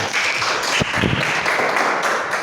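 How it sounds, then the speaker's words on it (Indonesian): Classroom applause for a student, a short burst of quick clapping from a group of children that stays steady and fairly loud for a couple of seconds. "Tepuk tangan buat Angelica"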